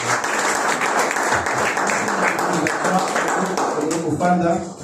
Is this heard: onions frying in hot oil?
no